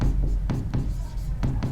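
Chalk or marker scratches across a board during an engineering lecture, a few short strokes over a low room hum.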